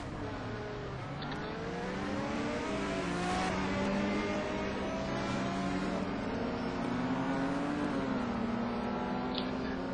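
Sim race cars circling Donington Park in a short warm-up session, engines droning and shifting pitch as they rise and fall through gears, a steady continuous roar with several cars overlapping and no voices.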